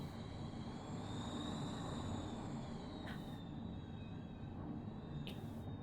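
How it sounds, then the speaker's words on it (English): Subway station ambience in a text-based horror video game: a faint, continuous low rumble of rail traffic with a thin metallic squeal of train wheels drifting over it and two brief brighter clanks. "Kinda sounds like a subway station, doesn't it?"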